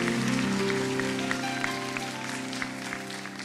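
A worship congregation applauds at a church service, with dense clapping blended over a sustained keyboard chord, fairly close and gradually fading a little.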